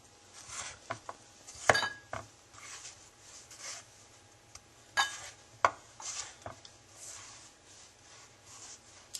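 A knife cutting vegetables into julienne slices on a cutting board, scattered sharp taps and chops of the blade hitting the board, close and moderately quiet with pauses between strokes.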